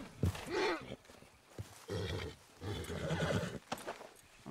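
A horse in Red Dead Redemption 2 whinnies loudly near the start, followed by snorts and clopping hooves, with a shorter neigh near the end, all close and prominent.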